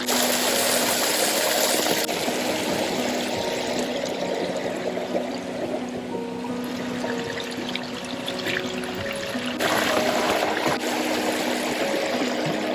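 Steady rushing of flowing water fills the whole stretch, a continuous broadband wash with a faint hum underneath and no talking.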